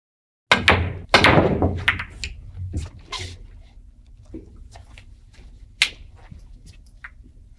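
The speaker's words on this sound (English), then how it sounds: "I'm going to hit the two ball, have the cue ball go over and make the one" Pool balls knocking together in the Virtual Pool video game on PlayStation, a burst of sharp clacks followed by scattered lighter ball hits and rolling thuds trailing off over several seconds.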